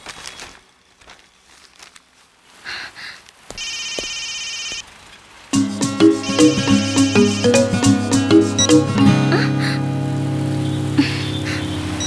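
A mobile phone ringtone plays loud and close after a quiet start, a musical repeating melody with steady rhythmic notes that runs on for several seconds, with some faint rustling before it begins.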